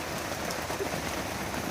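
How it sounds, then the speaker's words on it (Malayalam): Steady rain falls during a rainy spell, a continuous even hiss of drops on surfaces that is close and unbroken for the short moment. "അതുപോലെ മഴയാണ്."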